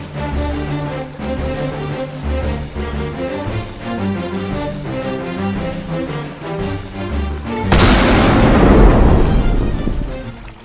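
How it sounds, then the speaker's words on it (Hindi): A cartoon cannon fires with a sudden loud boom that rumbles and slowly decays, cutting in over rhythmic DJ music. "अब मैं तोप चलाता हूँ।"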